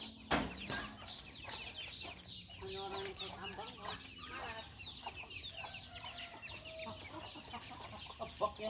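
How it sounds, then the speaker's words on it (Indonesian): Chickens cluck repeatedly at close range on a farm during a duku fruit harvest, with bursts of agitated calls over background noise and occasional voices. "Ayam tuh."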